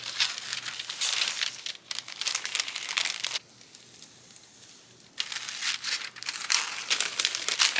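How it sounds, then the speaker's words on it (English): Tracing paper is crumpled and handled while a sewing pattern is made, producing loud close crinkling bursts with a short quiet pause in the middle. "I need to put some more tracing paper for the tail."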